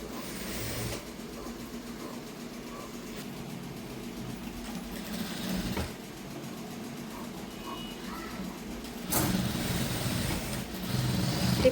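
A sewing machine runs steadily while stitching a dress in a tailoring setting, giving a continuous mechanical whir that holds through the whole stretch and swells slightly louder near the end.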